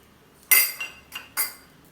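A metal wok set down on a stove for frying chicken, giving a sharp clanking knock followed by a few lighter metallic clinks over about a second, close and fairly loud, in an otherwise quiet kitchen.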